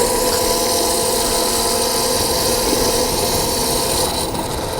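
A Voloci electric scooter on a 48V battery is ridden under load, giving a steady, loud electric motor whine with a constant drone of wind and road noise and no speech.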